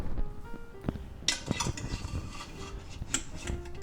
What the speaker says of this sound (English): And then we'll put our nice pork loin in there.